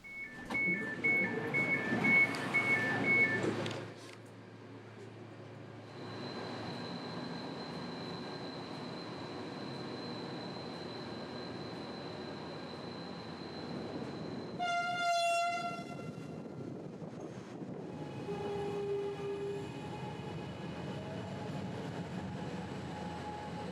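A Tren Maya passenger train rumbles past steadily, then sounds one loud, sustained horn blast, and the rolling rail noise continues afterward.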